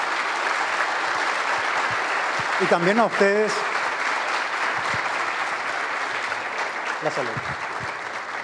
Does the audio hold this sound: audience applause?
yes